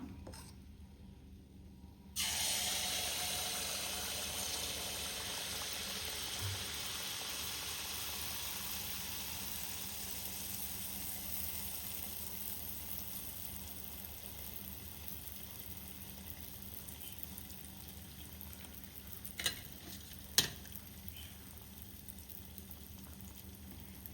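Soft, steady sizzling of neyyappam frying in hot oil fills the background, fairly quiet and continuous, with a couple of faint clinks near the end.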